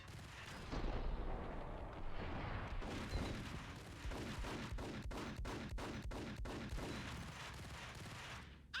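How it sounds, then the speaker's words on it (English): A grenade goes off in Max Payne amid a loud, rolling barrage of blasts and gunfire, with a rhythmic run of sharp reports in the latter half and no talk. "Hold it. That's a grenade."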